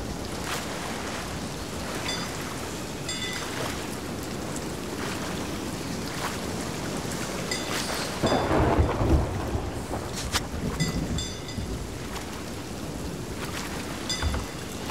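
A thunderstorm rolls over the Crooked Mast in the pirate game Sea of Thieves. Steady rain hisses throughout, and a deep rumble of thunder swells about halfway through and then fades.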